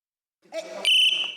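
At a disabled athletes' sports league match, a referee's sharp, shrill whistle blast cuts in after a short burst of rustling activity, holding a steady high pitch before trailing off.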